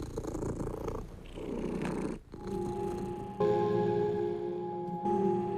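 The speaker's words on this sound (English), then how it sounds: "the cat would just, you know, be purring and relaxing" A cat purring nearby, in uneven stretches separated by brief pauses, with a steadier, more tonal rumble toward the end.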